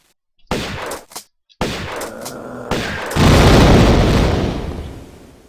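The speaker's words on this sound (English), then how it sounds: "Explosions!" Loud explosions and gunfire from the Tomb Raider video game fight against alien mutants, several sharp bursts in quick succession and then a long, heavy blast that roars and slowly fades.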